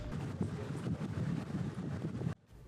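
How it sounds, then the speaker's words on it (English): Gusty wind buffets a yacht moored in a marina, a steady close rumbling roar that runs unbroken and then drops away abruptly just before the end. "The winds are off and on."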